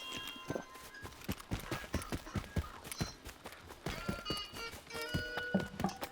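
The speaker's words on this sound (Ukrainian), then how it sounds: "Все кабани, собаки кабани." Wild boars running in the Stalker 2 video game, a fast patter of hoof footfalls with clattering steps at moderate distance, joined by scattered tonal game sounds.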